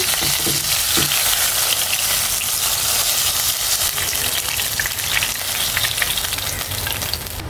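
Pieces of rohu fish fry in hot oil with a loud, continuous close-up sizzle and crackle that barely changes over the whole stretch.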